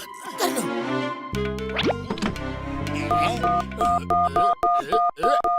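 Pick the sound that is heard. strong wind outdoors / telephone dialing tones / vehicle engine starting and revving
telephone dialing tones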